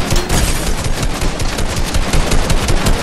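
A drum gun fires in the Fortnite video game as one continuous loud, dense automatic burst of rapid shots lasting the whole stretch.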